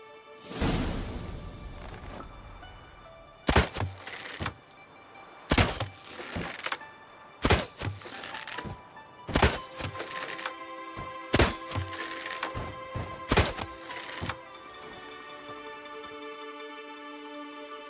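Arrows thud into wooden targets in a Witcher 3 archery contest, a series of about eight sharp, loud impacts spaced a second or two apart, with faint whooshes and quiet game ambience between them.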